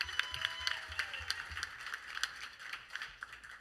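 An audience at a live Song Suffragettes show claps for a singer in a fairly steady, rhythmic beat, heard from a little distance at moderate volume.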